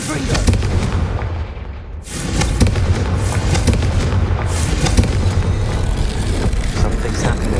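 The Confringo fire spell in Hogwarts Legacy goes off as a dense, loud, crackling blast with booming bursts. The roar holds throughout the clip, apart from a brief dip near the start.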